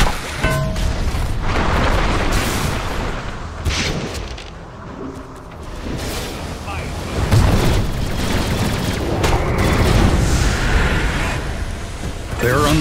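Tower under attack in the video game Dota 2, with booming impacts, explosive bursts and crackling battle effects rolling continuously beneath an announcer's voice, dense and loud.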